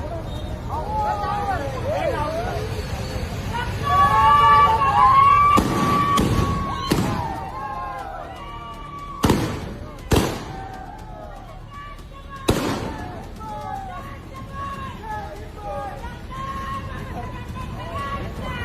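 Fireworks burst at a large celebration honouring Dr. B. R. Ambedkar, with repeated loud pops and thumps over a steady crowd hubbub, while a voice speaks throughout.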